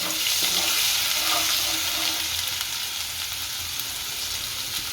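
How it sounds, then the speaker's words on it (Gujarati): Garlic sizzles in hot oil in a pan alongside cumin while being stirred, a steady close crackling hiss with faint scraping at the start. "પછી લસણ નાખી દઈએ એને હલાઈ નાખીએ"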